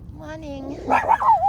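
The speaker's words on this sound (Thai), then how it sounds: "ไม่เห่าไม่เห่า" A dog outdoors, out picking shaggy mane mushrooms, gives a short whining yelp and then a couple of close barks, all within a second and a half.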